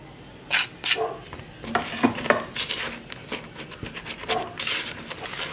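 Brown sugar and white sugar go into a vegan cupcake batter and are mixed in, giving a gritty scraping and rubbing with intermittent clinks of a utensil against the bowl, close and moderately loud.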